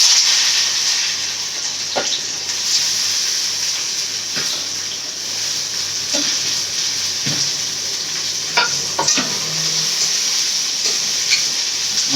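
Onions sauté in a pan for a Tamil fish kulambu and prawn gravy, giving a loud continuous sizzle with spatula stirring and scraping throughout and no voices.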